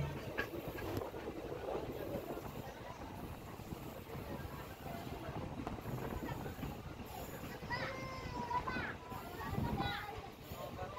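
A 15814 Murkongselek–Dibrugarh express runs on the rail line with a steady low rumble and rattle, heard from on board beneath voices, including children's.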